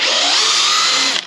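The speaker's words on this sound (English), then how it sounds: "This drill is extremely powerful." A Craftsman V20 gen 2 brushless hammer drill runs at full speed with a loud, steady high-pitched whine for over a second, then begins spinning down; the sound is close and dominates, with no voices.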